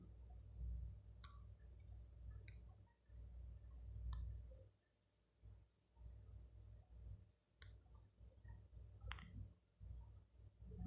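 A computer mouse clicks several times, short sharp ticks spaced irregularly over a low steady hum in a quiet room.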